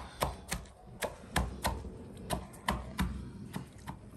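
A big cleaver chopping onions on a hard surface: about a dozen sharp, evenly spaced thwacks in a steady rhythm, close and fairly quiet, with no talk.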